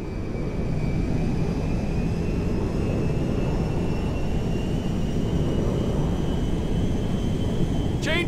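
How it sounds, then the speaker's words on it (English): Jet aircraft landing at an airfield in GTA 5, a loud steady roar of engine and rushing air held throughout, with a brief whine at the very end. "We are now landing in Mackenzie Field."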